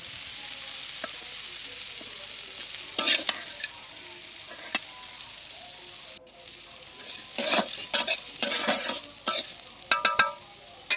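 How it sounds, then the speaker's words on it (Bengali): Bitter gourd frying until lightly charred in a pan, with a soft continuous sizzle and clusters of spatula scrapes and clatters that grow busier toward the end. Close, with no voices. "এরকম হালকা পোড়া পোড়া করে ভাজতে হবে"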